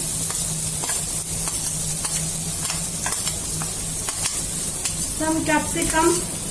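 Onion, tomato and vegetables frying in a kadai, a constant loud sizzle broken by repeated spatula clicks and scrapes against the pan, with a burst of bubbling spatter near the end.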